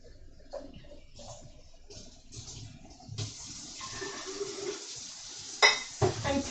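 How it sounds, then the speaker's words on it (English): Water runs and splashes while a graduated cylinder is rinsed out during yarn dyeing, a steady wash of flow with a few louder clinks and splashes near the end. "I'm going to rinse out the graduated cylinder."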